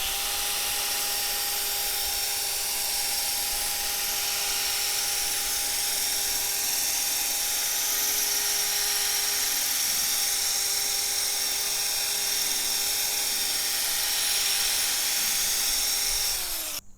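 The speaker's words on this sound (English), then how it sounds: "we're just supposed to gently polish it until the cloudy haze is gone" A power polisher with a foam pad works a cloudy headlight lens in a 3M restoration job, giving a steady, loud, high whine with faint tonal hum that holds unbroken for the whole stretch before cutting off at the end.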